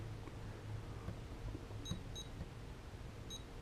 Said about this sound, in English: and it beeps and you're set